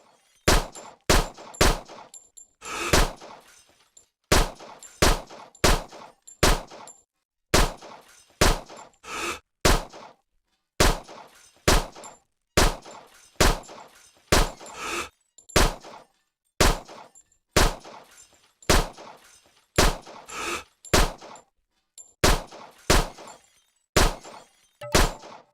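In the World of Shooting video game, gunshots smash glass bottle targets, with sharp shot-and-shatter impacts repeating in a steady, evenly spaced rhythm, loud and close with no talking.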